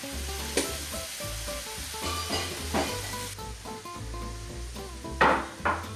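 Carrots, ground cumin and smoky ancho chili powder sizzle in a fried onion mixture loosened with pork stock, a steady close frying hiss broken by the scrape and clatter of stirring against the pot.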